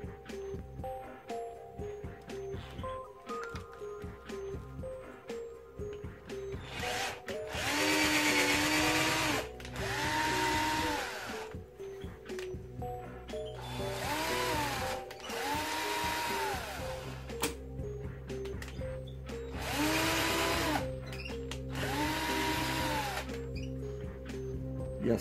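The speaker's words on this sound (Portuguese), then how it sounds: "eu vou fazer rosca em todos os furos que eu fiz com esta ferramenta aqui." A power tool whirs in several sustained bursts while tapping threads into holes drilled in PVC pipe, with quieter pauses in between.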